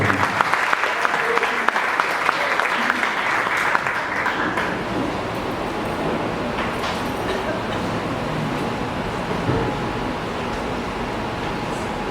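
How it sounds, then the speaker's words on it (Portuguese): A church congregation claps together during a service, a loud burst of applause at first that then thins into a softer, rumbling wash of sound under a low steady hum. "Você pode aplaudir o Senhor."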